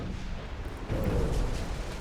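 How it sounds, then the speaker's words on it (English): Naval gun salvo in the warship battle game Ultimate Admiral: Dreadnoughts, a deep low rumbling boom that swells midway and rolls on under a continuous roar of battle noise. "Oh, and another salvo hits."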